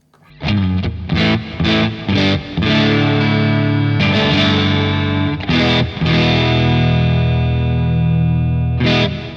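Distorted electric guitar through a Crazy Tube Circuits amp-in-a-box pedal, controls near noon, plays choppy repeated chords, then long sustained crunchy chords ringing out loud and alone.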